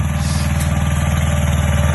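A Kubota B1-10 mini tractor pulls a two-body plough, its small diesel engine chugging loud and close in a steady, even throb with no voices.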